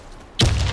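A grenade goes off in a video game with a sudden, loud, close blast. The heavy boom cuts in abruptly after a quiet moment and rumbles on to the end.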